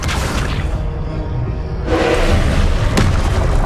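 The Confringo fire spell explodes in the Hogwarts Legacy video game with a loud, heavy boom and whooshing rush, and a thick rumbling roar continues under renewed blasts.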